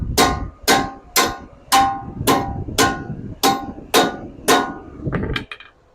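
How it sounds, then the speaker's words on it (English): Eight heavy metallic hammer blows on a car wheel stud ring out at an even pace, each with a sharp clang and brief ring, followed by a couple of lighter taps. "Get your big hammer, and you're gonna hit it."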